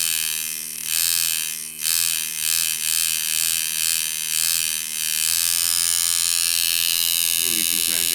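A Dan Kubin Sidewinder v3r or Poseidon v7 tattoo machine runs close by at about 6 volts with a steady, tonal electric buzz that pulses slightly before settling into a smooth continuous hum, with a voice talking over it.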